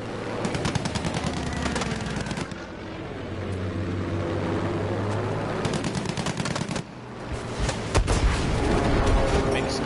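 Aircraft machine guns fire in Battlefield 5, loud rapid bursts crackling over a droning engine, pausing briefly midway before more volleys resume.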